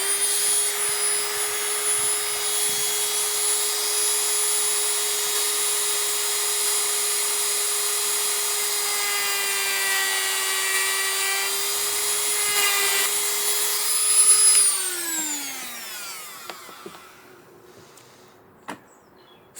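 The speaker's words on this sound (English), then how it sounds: "So I'm going to use this Dremel tool, and I'm sorry for the noise." A Dremel rotary tool whines steadily at high speed while grinding the bark of a hornbeam bonsai, loud and close for about fifteen seconds, then spins down in a falling pitch, followed by faint scraping and handling sounds.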